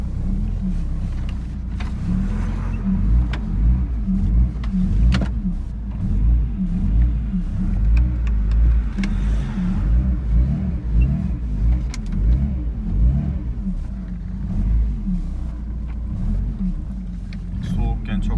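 A Tofaş Şahin car engine, restarted after sitting unused for a long time, rumbles close by with repeated throttle blips and revs, while voices talk faintly over it.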